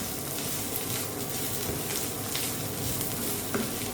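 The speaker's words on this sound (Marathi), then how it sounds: "आता आपण यात हे कारली टाकू आणि ह्याला हे कारली टाकून ह्याला आपण हे आता परतून घेऊया" Bitter gourd pieces sautéing in a pan for Maharashtrian karlyachi bhaji, a steady close sizzle and crackle with stirring scrapes throughout, no one speaking.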